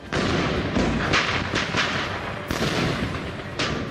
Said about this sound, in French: Embusquée, l'artillerie Viet Minh est invisible. Et le pilonnage, d'une puissance inouïe.